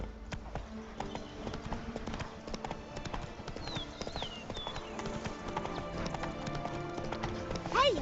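A horse gallops in a video game with steady clip-clop hoofbeats under ambient game sound, and whistling calls rise faintly partway through.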